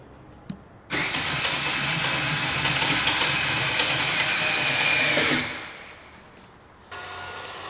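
Motorized auto-leveling jacks on a Rockwood Ultra Lite 302RDT travel trailer whine steadily for several seconds, wind down, then start again near the end.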